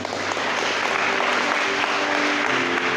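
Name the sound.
congregation applause in a church service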